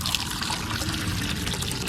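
Water poured from a clean bowl into an animal's water container, a continuous close trickle and splash that runs steadily for about two seconds with no talking.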